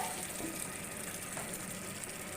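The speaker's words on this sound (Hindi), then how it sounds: "अब मैं इसके अंदर ये बचा हुआ चनों का जो पानी है जिसमें मैंने चनों को बॉईल किया था ये डाल दूंगी।" Leftover chickpea cooking water pours into a pot of chickpeas in a soft, continuous gush that stays faint and steady throughout.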